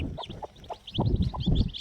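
A hen clucks in short, low, repeated bursts near the microphone, while thin chick peeps keep going above her calls.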